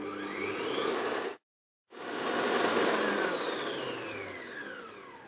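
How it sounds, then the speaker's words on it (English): Electric stand mixer whisking egg whites into stiff meringue peaks for a strawberry meringue roulade, a steady loud whirring drone that cuts out briefly and then resumes. "you're going to whisk up to the egg white until it stiff peaks"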